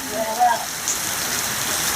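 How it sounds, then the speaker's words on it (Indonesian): Heavy rain falling at dusk, a dense, steady hiss of downpour on surfaces that fills the whole stretch, loud and continuous, with a brief faint tone near the start. "Hujannya semakin deras, semakin lebat."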